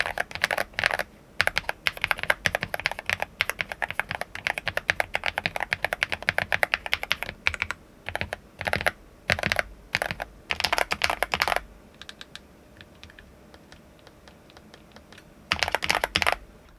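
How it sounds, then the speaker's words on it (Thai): GravaStar Mercury K98 Pro mechanical keyboard with layered foam dampening, typed on in fast close clacking runs, pausing briefly then resuming, no voices. "คีย์บอร์ดตัวนี้ให้วัสดุดูดซับเสียงดูดซับแรงกระแทกมาหลายชั้นเหมือนกันพวกโฟมอะไรต่างๆนะให้เสียงการพิมพ์ประมาณนี้"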